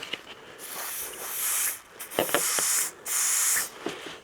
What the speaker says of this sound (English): we're going to spray a bit of Jazzy Fizzle down the line just to give it some clean out